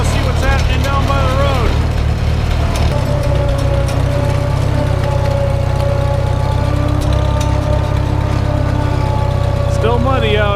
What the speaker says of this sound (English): that rear end grease is still thick enough from being cold that it only has a kind of bad gear whine